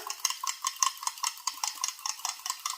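Eggs being scrambled in a frying pan with leftover grease, a utensil scraping and tapping the pan in a quick, steady rhythm of sharp clicks, close and clear with no talking.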